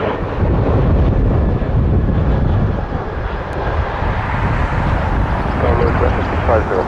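An Air Canada airliner takes off from runway 23 at Toronto Pearson with a loud, steady jet engine roar and wind buffeting the microphone, holding constant for several seconds, while faint voices sit beneath it.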